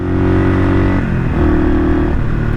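A rebuilt 1978 Kawasaki KL 250 motorcycle engine runs close by, loud and steady, with a brief dip in pitch partway through before settling back to an even idle-like drone.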